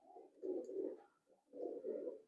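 Imported pigeons coo in two close, low rounded bursts separated by a short pause, with no talk over them.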